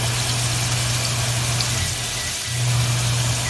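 Steady mechanical whir of a kitchen fan with a low constant hum, briefly dipping and then resuming, running continuously with no voices.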